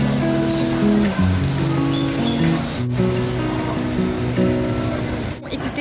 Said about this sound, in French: Il pleut non-stop, ça alterne entre la pluie vraiment en mode douche à la tropicale et une petite pluie fine